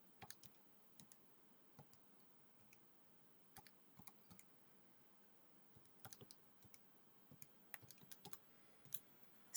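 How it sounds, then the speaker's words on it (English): Scattered light clicks of buttons pressed on a calculator keypad, coming in short irregular bursts of one to several taps, faint and close against a quiet background. "I'm actually just going to put that in my calculator so I don't have to keep typing it in"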